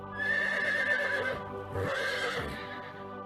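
A horse gives two loud, drawn-out whinnies, with a few hoof clops in between.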